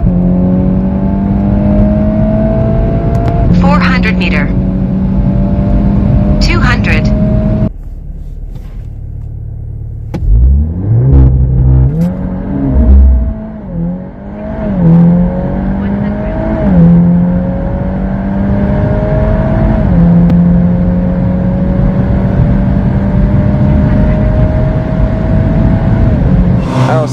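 A tuned stage 2 VW Golf 8R with a bigger turbo, rated at 480 hp, accelerates hard in a roll race. Loud, close engine drone climbs through several gears with a sharp drop at a shift, then surges again.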